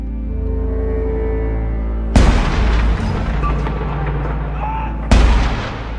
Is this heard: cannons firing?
yes